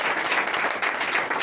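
Audience applause for Raju at a Vestige training session, dense continuous clapping from a room full of people, loud and steady through the short moment.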